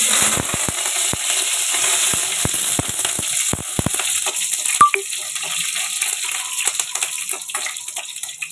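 Garlic and curry leaves fry in hot oil in a pan, a continuous crackling sizzle scattered with sharp pops and spits that settles slightly toward the end, with no talking.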